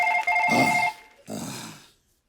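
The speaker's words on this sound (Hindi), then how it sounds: "वो फोन है, फोन।" A phone's electronic ringtone trills in a short repeating tone pattern, heard up close, with breathy, noisy bursts around it.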